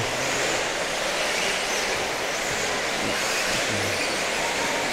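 Radio-controlled race car racing on an indoor track during a professional final, a constant loud high-pitched motor whine with steady broadband noise throughout.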